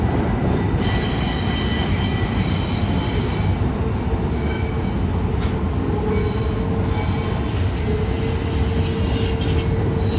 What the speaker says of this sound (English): Domestic stack train.